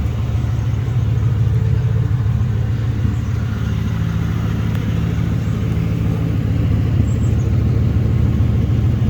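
A 1997 Pontiac Firebird Trans Am with its 5.7L V8 running steadily at idle, a loud, even, low rumble with no ticking, alone and unchanging throughout.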